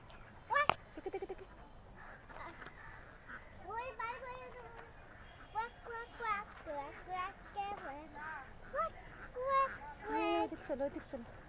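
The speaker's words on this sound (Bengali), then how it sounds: "এই তো আইতাছে হাঁস আইতাছে।" Ducks give repeated nasal honks and quacks at moderate distance, in irregular bursts, while people and someone talk nearby.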